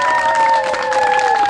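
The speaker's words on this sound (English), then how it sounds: "I want you to give them a round of applause." Children at a church sports camp clap and cheer for their coaches, a brief burst of close crowd applause with excited voices and whoops mixed through the clapping.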